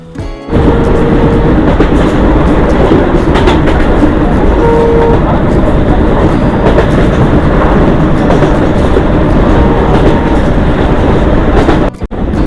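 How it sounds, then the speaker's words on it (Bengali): The Agartala–Silchar Express departs Agartala, rumbling loudly along the rails close by, a heavy continuous roar with rhythmic clattering of wheels, fading off abruptly near the end. "আগরতলা থেকে আগরতলা শিলচর এক্সপ্রেস ট্রেন বেরিয়ে যায়"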